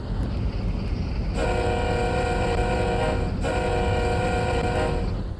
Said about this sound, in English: You want to hear the horn?